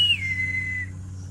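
A female monkey in a mangrove near Quepos gives a sad whistle call, a single thin descending whistle lasting under a second over a low background hum.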